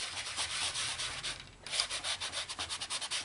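Rhythmic abrasive strokes of sandpaper rubbing over the metal-filled textured surface of a travel mug, steady back-and-forth scrubbing up close with a brief pause midway, no voices.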